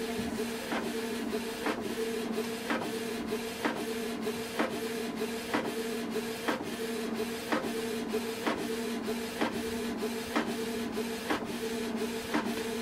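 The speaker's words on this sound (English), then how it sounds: "So it's going to print now." A Canon TS3350 inkjet printer runs steadily, its print head clicking in an even rhythm over a constant mechanical hum. Close and clear, with no voices.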